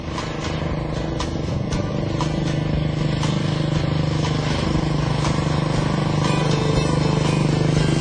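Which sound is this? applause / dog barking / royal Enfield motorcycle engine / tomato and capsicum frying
royal Enfield motorcycle engine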